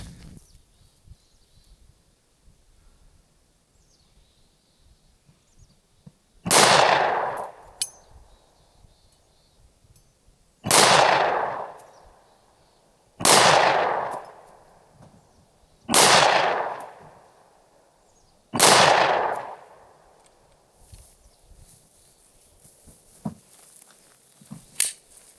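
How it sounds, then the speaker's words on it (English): Five gunshots fired down range outdoors in open New Mexico country, each a sharp loud crack with a trailing echo, spaced a few seconds apart over faint background quiet. "So let's put some rounds down range."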